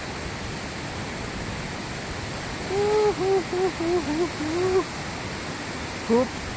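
Domzira waterfall at Jawhar roars as a steady, broad rush of falling water throughout, with a voice speaking briefly over it.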